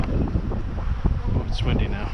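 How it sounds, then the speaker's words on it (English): Gusty outdoor wind batters the microphone beside a beehive, producing a heavy, continuous low rumble with brief muffled voice-like sounds mixed in. "Oh, it's windy now."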